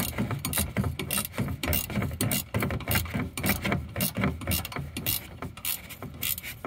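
Ratchet wrench clicking steadily as bolts are tightened on the coolant bypass valve of a 2015 RAM 1500 with a 5.7L V8 HEMI, rapid close metallic ratcheting in repeated bursts with no talk.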